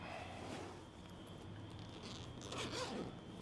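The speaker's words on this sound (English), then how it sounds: "Unzip this." A zipper drawn open along the top compartment of a camera bag, a close, quiet rasping pull lasting a couple of seconds, with faint handling noise around it.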